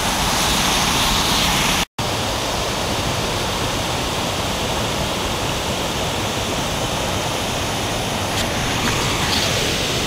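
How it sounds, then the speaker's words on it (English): The Magnetowan River in Ontario flows in a loud, continuous broadband rush close to the microphone, steady throughout apart from a momentary dropout near the start. "So this is the Magnetowan River"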